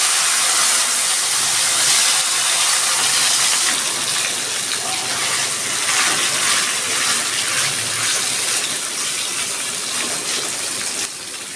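Taro stolons hit a hot pan of oil with white cumin over low heat, giving a loud, continuous sizzling hiss that holds steady and fades slightly at the end.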